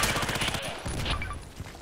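Gunfire in the online shooter Contract Wars, a terminal map fight: rapid automatic shots rattle in a dense, fast burst at close range, loud and continuous through the short moment.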